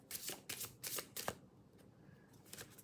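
Oracle cards are shuffled by hand in several quick, close riffles, followed by a quieter stretch of soft handling as cards are drawn.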